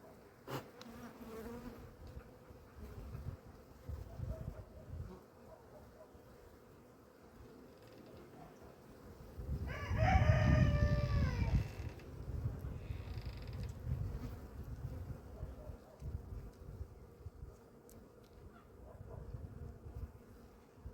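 Honey bees buzzing around a hive frame, with emerging bees, a faint steady hum that swells for a few seconds midway along with a brief honk-like call, then settles back to a low drone.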